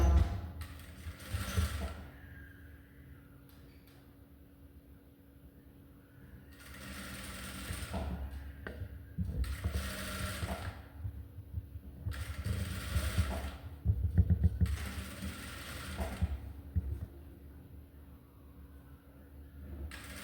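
A sewing machine runs in several bursts stitching a half-inch dress seam, each whirring run lasting a second or two, separated by quiet pauses with faint handling noises, close and clear.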